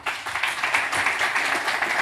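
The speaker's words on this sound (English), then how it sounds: "Welcome and a big applause." A conference audience welcomes a KONE speaker with a short burst of applause, many hands clapping together close and lively without talk.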